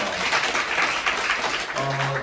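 High school students at a school church service clap after a prayer, a broad burst of applause from the group that fades as a voice starts speaking near the end.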